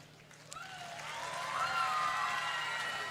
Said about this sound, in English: One huge round of applause, if you will